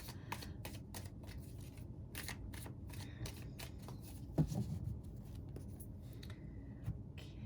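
Tarot cards being shuffled by hand, a soft rapid riffling and flicking that runs in close bursts over a steady low background, fairly quiet, with no speech.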